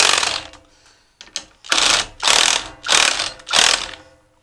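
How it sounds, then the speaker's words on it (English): A ratchet clicks close by while snugging the bolts on a Dyna-Glo Delux 50,000 BTU salamander kerosene forced air heater, five loud rhythmic bursts of rapid clicking after a brief opening rattle. "I barely snug them up any at first until I get them all tightened down just a hair"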